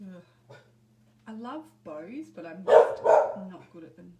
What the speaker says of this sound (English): Excuse my dogs while they go and protect the house.